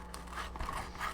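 Scissors snip quietly around a picture cut from a magazine page, a faint close-up series of small cuts and paper rustles.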